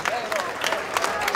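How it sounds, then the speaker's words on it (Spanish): A standing audience applauds at the 2014 YMCA sports awards ceremony in Venezuela, giving a steady, dense wash of clapping with a few sharper bursts, under a male announcer's voice. "Todo el mundo de pie para aplaudir a John Muñoz."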